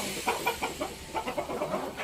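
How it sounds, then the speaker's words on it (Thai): Several laying hens cluck in short, repeated bursts nearby, a steady chatter over a faint background hiss. "ไก่สาวสวย ๆชุดนี้กำลังไข่นะครับ"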